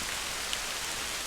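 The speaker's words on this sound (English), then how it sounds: "I'm sorry about the rain noise." Steady rain falls on a wet October day in England's Lake District, a dense, even hiss of drops close by with no voices.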